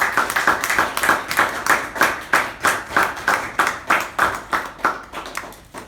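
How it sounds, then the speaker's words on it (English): Applause for a Toastmaster after her MC role at a Toastmasters club meeting: a small group claps in a steady, rhythmic beat, each clap distinct and fairly close, slowing slightly before fading at the end. "a big round of applause for Toastmaster Jayanti for having that MC's role done very well"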